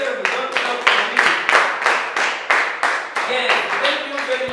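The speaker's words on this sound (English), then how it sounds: "Can you stand up and then you clap for yourselves?" Students in a classroom stand and clap for themselves, a steady run of loud, close applause with sharp, evenly spaced bursts of hand claps.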